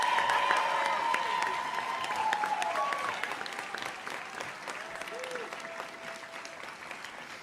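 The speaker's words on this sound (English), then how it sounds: "get a round of applause for Mr. Mike Macy" Sustained audience applause at a college fall convocation in Santa Fe, a dense steady clatter of many hands that fades slightly toward the end, with a faint voice briefly audible within it.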